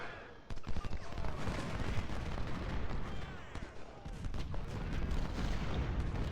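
Massed infantry muskets fire a volley in the Civil War strategy game Ultimate General Civil War. The dense crackle of many shots blurs into a continuous rolling roar, fairly distant and steady throughout.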